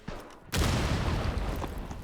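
An explosion in Rainbow Six Siege X: a sudden loud blast bursts out after a brief quieter stretch, followed by a sustained noisy rumble that slowly fades.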